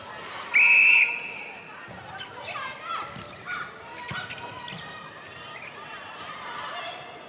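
A referee's whistle gives one sharp, loud blast early on at a Netball World Cup 2019 match between Sri Lanka and Fiji, followed by court noise and a voice talking.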